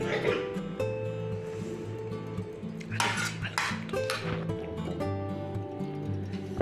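Pulao being served onto a plate, with several sharp clinks and scrapes of a spoon against dishes and a low tonal hum running beneath.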